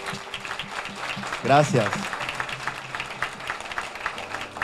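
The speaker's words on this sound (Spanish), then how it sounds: "Y quiero un aplauso para ustedes." An audience at a fundraising dinner in Lawrence claps in a steady, moderate patter for several seconds, while someone briefly speaks over it partway through.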